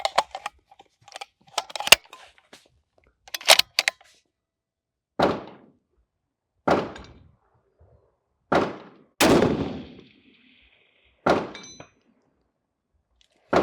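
Several separate sharp rifle shots at an outdoor range, each followed by a short ringing decay, spaced a couple of seconds apart and alternating with quiet handling clicks, with no talking.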